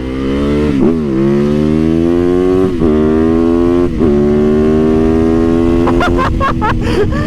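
Street-legal supermoto motorcycle engine revving up and down repeatedly, a loud, close, buzzing roar whose pitch climbs and drops in several pulls before faster, sharper blips near the end.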